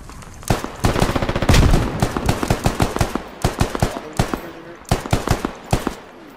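Automatic rifle gunfire in the military shooter game Squad: loud close bursts of rapid shots, in repeated volleys with short pauses, and some talk mixed in.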